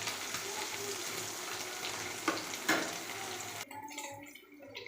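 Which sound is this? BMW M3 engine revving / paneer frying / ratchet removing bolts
paneer frying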